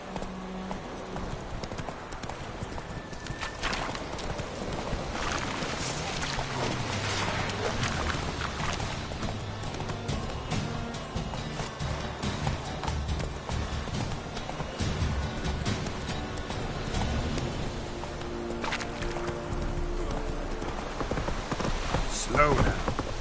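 A horse gallops in The Witcher video game, its hooves clip-clopping in a fast, steady rhythm from start to finish, with voices talking over it.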